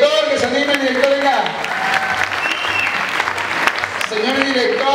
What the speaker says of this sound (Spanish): Aplauso para el director, que se anime el director, venga.